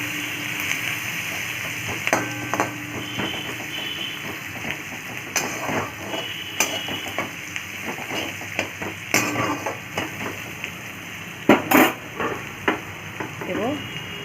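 Semolina frying in a pan gives a continuous sizzling hiss under repeated scraping and clinking stirs of a utensil against the metal, growing busier and louder toward the end.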